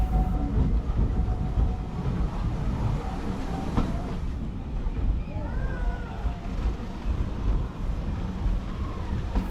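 A train rolls along the historic Middleton Railway line with a steady rumble and clatter heard from on board, wind buffeting the microphone and a few faint squeals.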